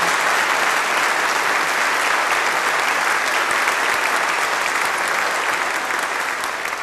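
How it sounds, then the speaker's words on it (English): Audience applauding an alumni band at a concert: dense, sustained clapping from a large crowd, loud and even throughout with no pauses. "they deserve a big round of applause"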